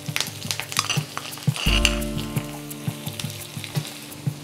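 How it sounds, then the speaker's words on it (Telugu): Mustard seeds, cumin, dried red chillies and curry leaves sizzle and crackle in hot oil as a tempering for tomato rasam, with sharp pops and a few clinks of a spoon against the pan, close and steady. "1 నిమిషం వేగిన తర్వాత ఈ పోపుని మరుగుతున్న రసంలో వేసుకుందాము."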